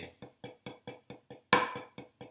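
Even taps on a drum practice pad, about eleven sharp, close, evenly spaced strokes at one soft dynamic, with a single louder, brighter stroke near the end.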